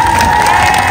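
Loud street festival crowd cheering and clapping for circus firemen performers, a dense burst of shouts and applause from close by for about one second.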